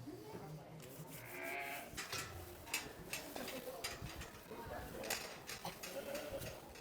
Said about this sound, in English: there's one of our pedigree Dutch spotted sheep